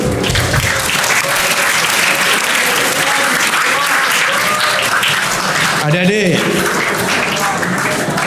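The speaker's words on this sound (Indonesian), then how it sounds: "Tepuk tangan untuk SMA 1" Steady crowd applause for a school fills the whole stretch, loud and dense, with a voice speaking briefly in Indonesian over it near the end.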